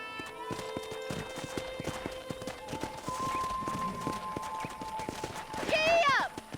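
Hooves clip-clop in a steady walking rhythm from a horse in Red Dead Redemption on a ranch, mixed with background music, then a horse whinnies near the end while a voice talks over it.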